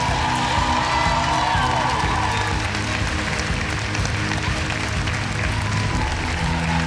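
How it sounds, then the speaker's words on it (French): A student audience at a Sherlock Holmes musical claps continuously, a dense, sustained wash of applause with scattered cheers and whoops throughout. "Donc merci de la réapplaudir encore une fois"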